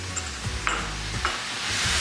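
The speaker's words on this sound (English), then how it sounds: "I'm gonna quickly add the sauce." Sauce goes into a hot pan of sizzling vegetable stir fry, producing a short burst of hissing and sputtering with a few clinks and scrapes of stirring over a steady sizzle.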